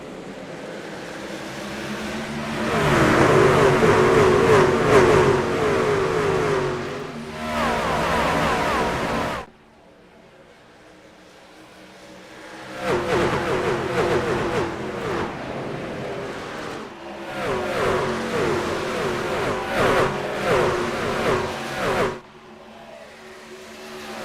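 Race trucks in an iRacing Truck Series race at Texas roaring as they accelerate at the green flag, loud engine drones swelling in two long bursts with a near-silent gap between them, and no talking.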